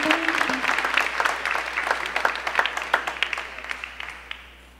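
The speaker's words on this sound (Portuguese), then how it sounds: "eu vou pedir para você dar seu melhor aplauso para Ele" A church congregation applauds in a steady, dense wash of clapping that holds for several seconds and then tapers off.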